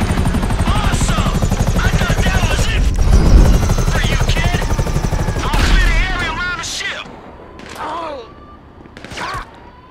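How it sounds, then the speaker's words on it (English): Attack helicopter in the GTA 5 video game, rotor thudding loudly through bursts of gunfire and explosions, with sharp whooshing shots near the end and talk mixed in. "they got some attack choppers on you"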